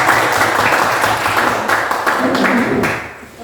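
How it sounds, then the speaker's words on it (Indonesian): Audience applause at a classroom group presentation, a steady patter of many hands clapping throughout, fairly loud and close, with some voices faintly mixed in. "Beri tepuk tangan."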